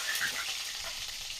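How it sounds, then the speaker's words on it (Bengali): Potatoes hit hot mustard oil for a home-style chicken curry, producing a brief, steady hiss of frying that fills the moment without pause. "তেলটা গরম হয়ে গেছে, এবার আমি দিয়ে দেব আলুগুলো"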